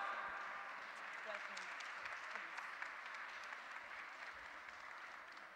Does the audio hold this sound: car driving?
no